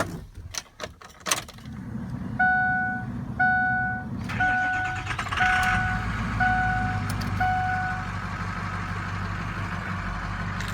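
After a few clicks and some evenly spaced chime beeps, a 2006 Ford F250 manual 4x4 pickup truck engine starts up and settles into a steady idle.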